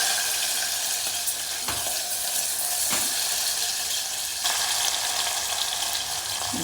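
Onion hitting hot tempering oil already crackling with dried red chillies, cumin, mustard seeds and curry leaves, a loud steady sizzle with a few sharp bursts and stirring, no voices.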